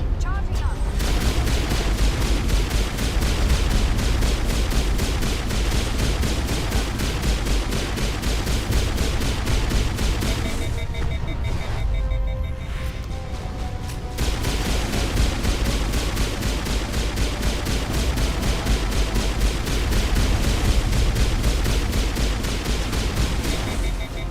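A Citadel defense turret in Mass Effect fires a long, relentless stream of rapid blasts, loud and close. The barrage drops out briefly midway, then resumes, with a voice occasionally breaking in.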